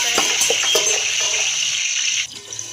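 Water pours into a pan to make sugar syrup in a home kitchen, a close, steady rushing splash that cuts off near the end and leaves a quieter trickle.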